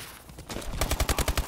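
Rapid bursts of gunfire in a PUBG match, with a roughly regular string of loud, sharp reports packed into the last half of the moment after a quieter, muddier stretch.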